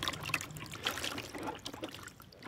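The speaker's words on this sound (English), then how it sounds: "Su Yan To rinses the cloth painted with liquid wax, then soaks it in the dye." Water trickles and splashes steadily as batik cloth painted with liquid wax is rinsed by hand, a close, continuous dribbling wash with small irregular splashes.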